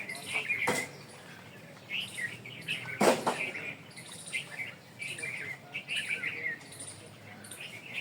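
Bulbul calling outdoors in pleasant weather, with repeated bright chirps and warbling phrases among other birdsong, moderately near, plus a few sharp bursts of noise.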